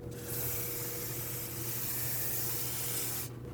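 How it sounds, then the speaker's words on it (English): Brake parts cleaner hisses in a continuous close spray onto the front brake rotor of a Mercedes-Benz GLC300, a steady aerosol rush lasting about three seconds before it stops. "I'm just going to use brake parts cleaner with a collection bucket underneath and rinse the outside."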